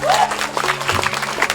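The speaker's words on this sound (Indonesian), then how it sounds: "Ini tepuk tangan buat kita semua." An audience at a Hindu school extracurricular Dharma Gita event applauds, a burst of clapping from a gathered crowd mixed with some voices and a brief melodic tone, fairly loud and close.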